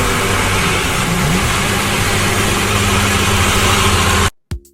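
A 2021 BMW S1000XR sport-touring motorcycle idles with its inline-four engine borrowed from the S1000RR, a close, loud and steady hum that cuts off abruptly near the end.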